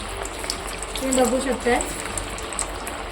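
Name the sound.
methi vadas frying in hot oil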